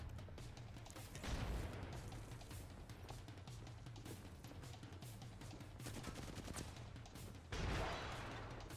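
Rapid gunfire and grenade blasts from an Apex Legends tournament fight rattle on continuously at a distance, with two heavier booming swells.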